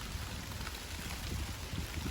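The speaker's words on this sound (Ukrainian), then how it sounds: "Зірву і біжу. Почався дощик." Light rain begins to fall in a garden with raspberry bushes, giving a soft, continuous patter of drops on leaves and surfaces, close and moderately quiet, with no one speaking.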